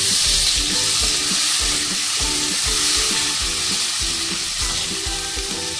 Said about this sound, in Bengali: একটু জল দিলাম, উষ্ণ গরম জল।